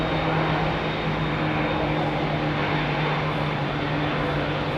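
A jet airliner with IAE engines takes off at Heathrow, giving a loud, steady, broadband roar with a constant low engine hum throughout and no pause.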